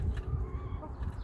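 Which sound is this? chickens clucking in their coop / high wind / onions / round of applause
chickens clucking in their coop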